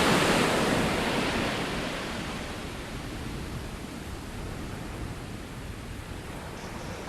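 Ocean surf rolls onto a beach in a steady wash of breaking waves, with wind buffeting the microphone. The surf is strongest at first and then settles into an even roar, with no voices.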